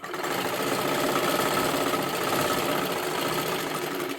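A sewing machine runs steadily, stitching silky fabric along a marked line, its fast even motor whir and needle chatter continuous and close throughout.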